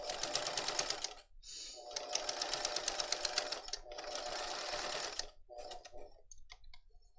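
A sewing machine stitches a messenger bag nearby in several quick runs of rapid, even ticking, separated by brief pauses, with no voices.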